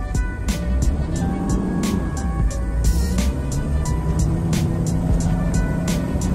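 A truck's engine and road rumble are heard from inside the cab as it pulls off, a steady low drone with repeated sharp ticking clicks over it.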